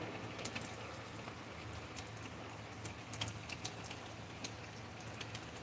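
Steady rain patters onto a residential driveway in a soft, even hiss with scattered brighter drops, faint birds cooing in the background, and no talk over it.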